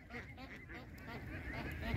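Many ducks quack along a road in Vietnam during a motorbike road trip, a dense, continuous chorus of honking calls close by with no gaps, steady and fairly loud throughout.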